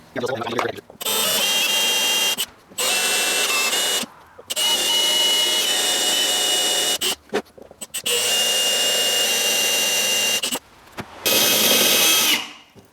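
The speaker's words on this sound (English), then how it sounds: "I'm going to move up to a 1/2 inch drill bit here to take off the rivet head" A power drill with a 1/2 inch bit whines loudly in several long bursts with brief pauses between them, grinding steadily through a metal rivet head up close, during a Yamaha FJ-09 clutch repair.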